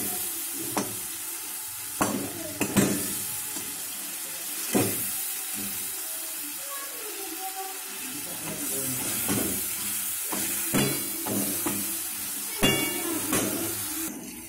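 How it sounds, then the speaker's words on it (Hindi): Tomatoes cooking in a pan with turmeric and spices, a loud continuous sizzle broken by repeated scraping stirs and clinks of a spoon, no talking. "एबे टमाटो पकईदबा।"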